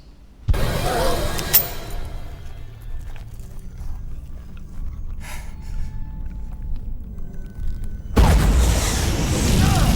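A heavy boom hits early in a scene from the film Mutant Chronicles, followed by low rumbling and scattered clattering, then a second loud roaring blast near the end.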